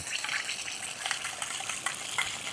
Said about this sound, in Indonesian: Kita panasin minyak sedikit, kemudian kita masukin, kita tumis ini bumbu yang sudah kita haluskan.